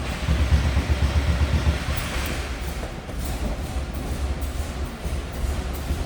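Air-cooled 1.6 liter flat-four engine of a 1979 Volkswagen Thing Type 181 running at a steady idle, a close, loud, continuous low rumble with no talk over it.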